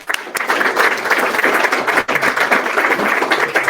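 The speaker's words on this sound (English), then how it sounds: "Give him a big round of applause" Audience applause fills a live panel event at a fintech drinks gathering, a dense crowd clapping steadily throughout with a brief dip midway, loud and close.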